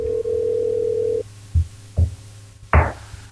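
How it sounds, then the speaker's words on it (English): A telephone call rings through on a podcast call: a steady ringback tone holds for about a second, followed by three short separate pulses, all fairly close and clear, with no talking over them. "All right, it's ringing."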